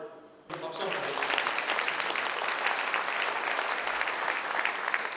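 An audience at a Saemaul Day ceremony in Daegu bursts into applause after a speaker finishes, sustained crowd clapping that starts abruptly and holds steady at an even level.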